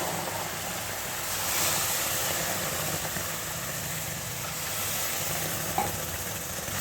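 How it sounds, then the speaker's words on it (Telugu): Water poured into semolina roasted in ghee for ravva kesari sizzles and hisses in a steady, broad wash of noise that holds for several seconds without talk. "ఇప్పుడు బొంబాయి రవ్వ కూడా నెయ్యిలో వేయించుకోండి. ఇట్లా కొంచెం దోరగా వేగిన తర్వాత ఇప్పుడు వాటర్ పోసేసుకోవడం."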